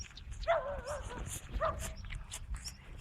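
A dog barks and yelps a few times at moderate distance, short sharp calls with gaps between them over faint outdoor background noise.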